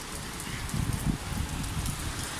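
Heavy rain falls hard and continuously on surfaces, with a few louder splattering bursts near the middle and no talking.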